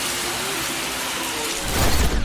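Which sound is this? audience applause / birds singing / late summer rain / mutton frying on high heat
late summer rain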